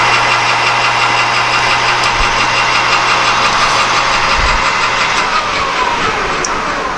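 Lathe facing off a workpiece while machining a toilet paper holder, a steady loud motor drone with a low hum and continuous broadband cutting noise, no voices.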